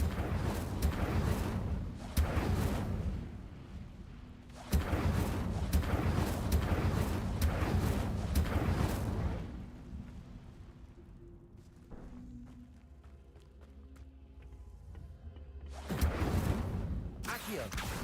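Incendio fire spells in a Harry Potter video game burst as repeated loud whooshing blasts in clustered bursts, with quieter rumbling gaps between and a final blast at the end.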